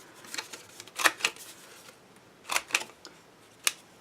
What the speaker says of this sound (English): I'm going to take my We Are Memory Keepers Crocodile and cut out a scallop corner